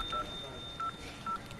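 Telephone keypad tones as a number is dialed, three short evenly spaced beeps at moderate loudness over a faint background hum, no talk.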